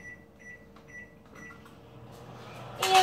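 A microwave oven runs with a low, steady hum while heating chocolate chips, ending in a louder burst of noise as the door clicks or opens.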